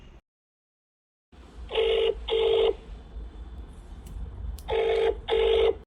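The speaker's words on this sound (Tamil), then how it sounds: "அரசிக்கு ஒரு ஃபோன் போட்டு பேசினாதான் சரியா வரும்னு நினைக்கிறேன்." A telephone rings on an outgoing call, two pairs of electronic ring bursts separated by a pause, clear and close over low background hum with no voices.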